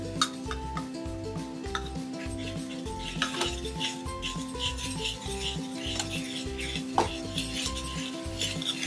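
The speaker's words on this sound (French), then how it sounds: "Je mélange une sorte de sauce soja où j'ai mis un peu de gingembre dedans pour mettre du goût." Soy sauce with ginger is mixed in a bowl, heard as steady rhythmic clinking and scraping of a utensil against the dish, close and moderately loud, with a faint steady tonal hum behind it.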